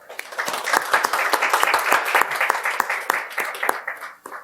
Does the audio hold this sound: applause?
yes